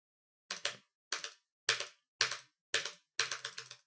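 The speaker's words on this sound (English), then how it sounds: "I love fucking spamming spacebar to frame advanced Twitch clips" Spacebar on a computer keyboard pressed repeatedly, six crisp clacks at a fairly even pace about half a second apart, the last one a quick flurry, loud and close against silence.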